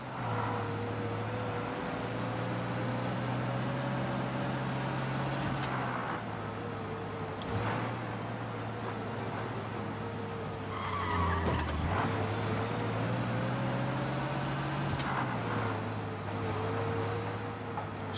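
Car driven in the video game Mafia: Definitive Edition, a steady engine drone with gear-shift drops and brief tire skids, continuous and close throughout.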